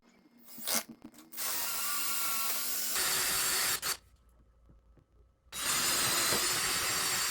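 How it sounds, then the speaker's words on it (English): A power drill with a 3/8 inch bit whirs loudly into wood in sustained bursts, broken by short pauses and a clicking handling sound, close by with no talking. "3/8 inch drill bit, and we need to start drilling our holes."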